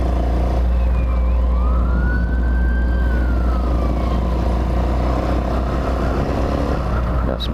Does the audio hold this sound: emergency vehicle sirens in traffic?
yes